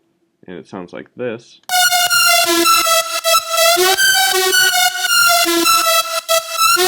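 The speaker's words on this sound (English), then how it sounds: "basically it just gives this weird pumping sound to it" A trap track with automated reverb that pumps as it swells with each hit, loud and sustained with a bright horn-like lead, following a brief spoken introduction.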